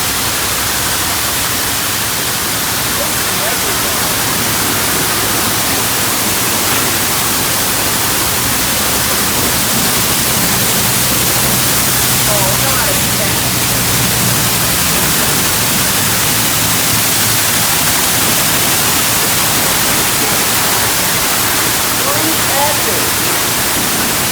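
A constant loud hiss of water spraying under pressure from a Hydrospray Classic car wash in Des Moines, Iowa, runs throughout with faint voices underneath.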